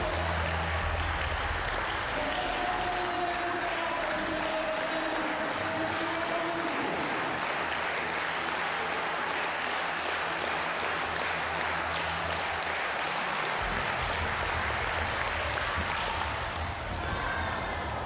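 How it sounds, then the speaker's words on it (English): An indoor athletics crowd claps in a fast, driving rhythm, a dense, steady roar of hands filling the arena with a low rumble beneath it. "Fast-paced clap."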